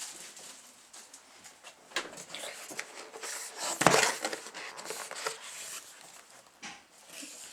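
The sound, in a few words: removing plastic wrapping from Apple keyboard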